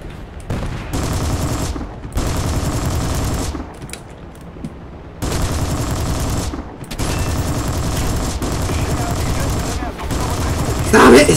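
Sustained automatic gunfire in the War Thunder video game hammers on in long, loud continuous bursts broken by a few brief pauses, close and dense throughout.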